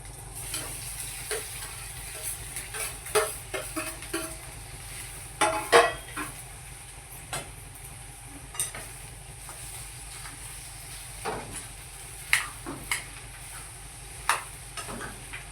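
Potatoes go into a kadhai and are stirred. Irregular spatula scrapes and taps sound over a soft, quiet sizzle.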